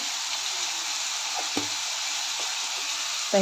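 Fried tomato with turmeric and asafoetida sizzles steadily in a pan, with a few soft scraping stirs cutting through the constant hiss.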